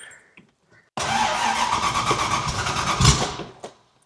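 Muscle car with a 347 stroker engine cranks briefly and then fires into a loud, rough, steady rumble, with a sharp rev blip near the end before it settles.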